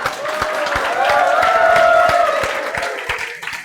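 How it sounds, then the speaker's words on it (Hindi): A classroom of students claps for their teacher, evenly spaced claps under a sustained, tonal voice. "एक बार ताली बजाओ मैडम के लिए।"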